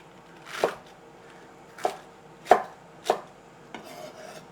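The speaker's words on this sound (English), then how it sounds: "So that's all the chopping done." Knife chopping salad leaves on a board at home: four or five separate crisp thuds spaced about a second apart, close and fairly loud, with a softer scrape at the end and no talking.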